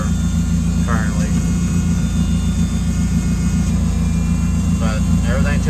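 A vehicle engine revving in neutral after a rear differential swap, a loud, steady low rumble that holds throughout with faint brief voices over it.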